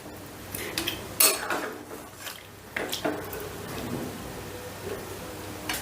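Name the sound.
mixing kewra water into chicken korma in a pot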